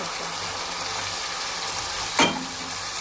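Chopped tomatoes frying with golden brown onions in a pan, a steady mid-level sizzle with faint stirring and one sharp clack of a spoon near the end.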